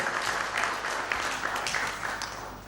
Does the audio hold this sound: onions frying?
no